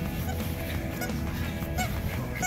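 Geese or ducks honking at a park along a trail in Las Vegas, repeated calls over a steady loud outdoor background rumble.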